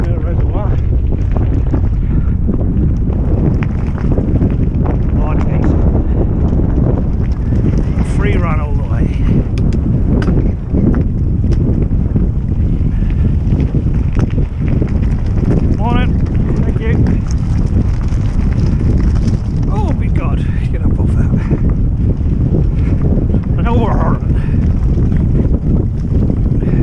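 Strong wind buffets the microphone on a ride out beside a reservoir, a loud, constant roaring rumble that swamps the scene for nearly half a minute, with faint voices and motion noise mixed underneath.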